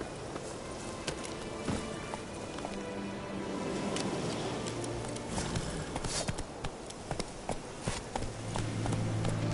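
Horse hooves clip-clop steadily at a trot in The Witcher 3: Wild Hunt, a quick continuous rhythm of hoofbeats running the whole time over a dense layer of game ambience and music.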